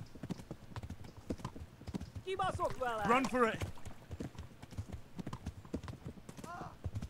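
Horse hooves clip-clop in Kingdom Come: Deliverance, a steady rhythm of light knocks running the whole time beneath game sounds, with a short horse whinny midway and voices talking over it.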